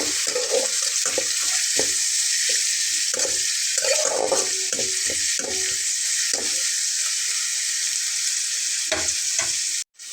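Two medium chopped onions sizzle steadily in a pan while a spatula stirs them, with repeated scraping knocks and clatters over the constant hiss, ending in a brief cut.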